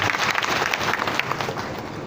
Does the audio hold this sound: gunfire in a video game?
no